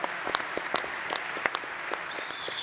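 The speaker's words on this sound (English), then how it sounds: "A round of applause for the panelists" Conference audience applause for the panelists, a moderate, fairly thin clatter of clapping with a few sharp, close individual claps and whoops standing out, lasting a few seconds.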